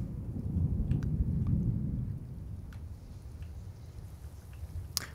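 Low rumbling thunder rolls through a Halloween-event map in the Overwatch game as purple lightning strikes, swelling loud at the start then settling into a steady, rain-like wash with a sharp crack near the end.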